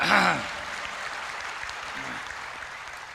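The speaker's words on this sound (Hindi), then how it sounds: "मैं सोच रहा एक बार जरा ढंग से ताली बजाओ पीछे तक तो मैं शुरू होऊं।" A comedy poetry gathering audience claps for a hasya kavi, a steady wash of applause under brief talking at the start and again near the middle.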